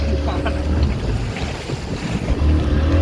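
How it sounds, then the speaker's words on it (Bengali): Strong sea wind buffets the microphone during a motor boat ride off the Goa coast between Colomb Beach and Butterfly Island, a loud continuous roar of wind, engine rumble and splashing waves with no pauses. "সমুদ্রের হাওয়া চুলে লাগছে"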